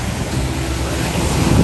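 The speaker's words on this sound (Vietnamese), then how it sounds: "Sóng hôm nay rất là nhẹ chứ không đến nỗi các bạn" Gentle surf rolls in steadily at Miami Beach in warm weather, a soft continuous wash of small waves with some wind rumble on the microphone, no voices.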